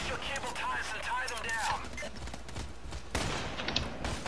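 Pistol fire in Payday: The Heist cracks in rapid scattered bursts at moderate distance, layered over busy game noise, with a sharper crack near the end.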